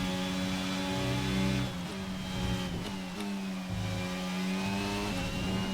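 Formula 1 cars race in the video game F1 22, their engines droning and revving in a sustained whine that shifts pitch as the cars accelerate and lift, heard continuously with no talk.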